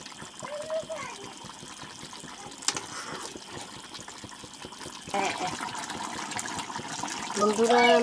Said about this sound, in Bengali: এখানে এখন কুসুম গরম জল দিলাম, এটা কুসুম গরম জল,